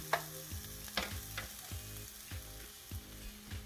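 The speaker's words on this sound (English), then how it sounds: "You can already start to see that the onions are getting a lot more crisp around the edges." Onions and potatoes fry in a pan with a steady close sizzle, punctuated by a few sharper stirring scrapes and clatters spaced about half a second apart.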